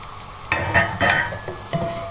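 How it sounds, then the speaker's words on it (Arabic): Onion and garlic sauté in butter and corn oil in a pan, a soft sizzle broken by several sharp scrapes and clinks as a utensil stirs them, close up, with no talking. "هياخدوا تشويحة لحد ما التوم يطلع ريحته، والبصل ياخد تشويحة حلوة كده"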